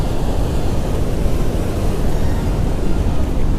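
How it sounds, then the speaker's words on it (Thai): Niagara Falls crashing down onto the rocks below, a dense, constant broadband roar heard close and loud with no voices. "ตรงนี้น้ำตกเสียงอาจจะได้ยินเสียงน้ำตกดังนิดนึงนะ"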